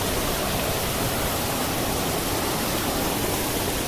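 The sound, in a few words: Amanvera waterfall rushing in Zaqatala mountains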